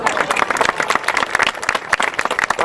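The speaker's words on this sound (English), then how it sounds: "So let's give them a round of applause" Applause from the audience at an outdoor Arbor Day tree-planting event at Planting Fields in 2006, welcoming a commissioner's grandchildren; dense, steady clapping close by that fills the whole moment, with a few voices mixed in.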